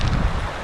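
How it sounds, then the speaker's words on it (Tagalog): Strong wind blowing by a river buffets the microphone in a loud, continuous roar with low rumbling gusts, heard alone for a brief moment. "tignan nyo mo, ang lakas ng hangin"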